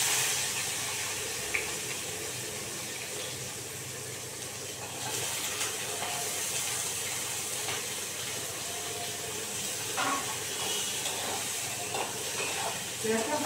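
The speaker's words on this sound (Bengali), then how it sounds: "পেঁয়াজটা হালকা ভাজা করে বেশি একটা ভাজবো না।" Garlic and onion frying together in a pan, giving a steady broadband sizzle and hiss that runs throughout at moderate level, with a few faint clinks and a voice talking over it.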